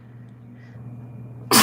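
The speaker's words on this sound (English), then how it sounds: "I feel like I'm gonna sneeze." A single sharp sneeze bursts out loudly at the very end, after a quiet moment of faint low room hum and a soft breath.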